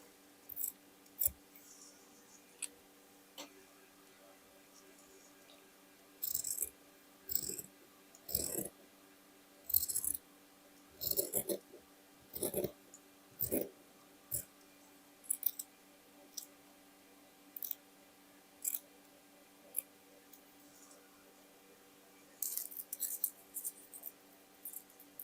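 Sharp scissors snip through fabric patches for a sweatshirt-and-denim dress, a scattered series of crisp close cuts in short bursts separated by quiet pauses, no talking.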